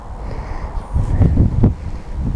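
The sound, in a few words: wind blowing outdoors at allotment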